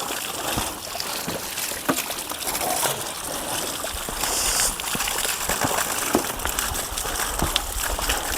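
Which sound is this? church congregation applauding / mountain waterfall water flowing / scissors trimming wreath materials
mountain waterfall water flowing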